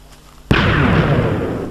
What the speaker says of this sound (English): let's fire it.